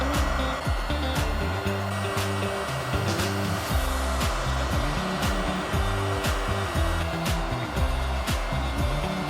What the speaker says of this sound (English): Use a heat gun to heat the heat shrink tubing until it shrinks tightly.